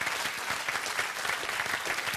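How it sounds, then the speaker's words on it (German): Studio audience at a television cabaret show breaks into loud, dense applause, a continuous wash of clapping filling the whole short stretch without letup. "Applaus"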